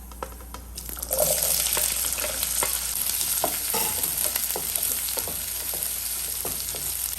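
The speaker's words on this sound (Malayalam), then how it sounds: "ആ കടുക് പൊട്ടിക്കഴിയുമ്പോൾ നമുക്ക് നുറുക്കി വെച്ചേക്കുന്ന ഉള്ളിയും പച്ചമുളകും കറിവേപ്പിലയും കൂടി ഇട്ട് കൊടുക്കാം" Onions, green chillies and curry leaves frying in coconut oil after mustard seeds have popped, with a steady close sizzle, brief clicks and spoon scrapes from stirring throughout.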